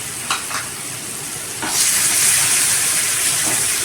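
One large chopped tomato drops into a hot pan of frying ginger and garlic for egg noodles, and the steady sizzle swells into a loud, continuous hiss with occasional stirring scrapes, close by with no talk.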